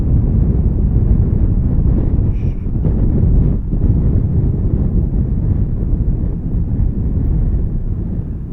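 Strong wind of about 6 meters per second buffets a motorcyclist on a Norwegian mountain road near Geiranger Fjord, making a loud, continuous low rumble of wind on the microphone.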